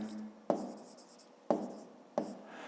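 Pen or pencil writing by hand on paper while solving a fifth-grade maths volume exercise, three distinct close taps each followed by a short scratchy stroke, quiet and without speech.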